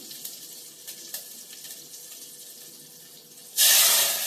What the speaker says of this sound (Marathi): पाणी, थोडंसं पाणी घालायचं.